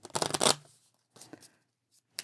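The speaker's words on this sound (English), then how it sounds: "So let me just give those a quick shuffle." Deck of board game cards shuffled by hand, a crisp riffling burst followed by softer rustles and shuffling, close and alone.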